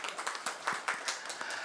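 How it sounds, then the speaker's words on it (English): A short burst of audience applause, many hands clapping steadily at moderate loudness, with no talking. "If you could join me in giving a round of applause to our speakers this session."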